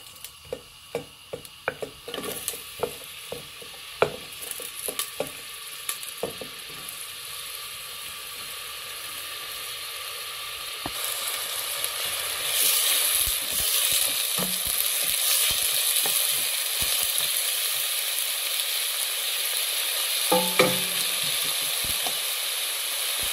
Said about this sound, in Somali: waxyaran aan basasha karinayaa